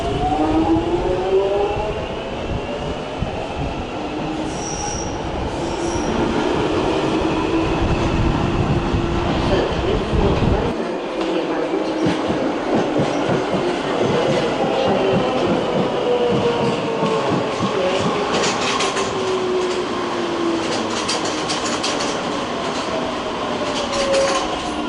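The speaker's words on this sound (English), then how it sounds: "you can just see the top of a Metropolitan Line train travelling in the other direction." A London Metropolitan Line train runs past West Hampstead station, a steady rumbling roll with rail clatter and occasional squeal lasting throughout, loud and continuous with no talk.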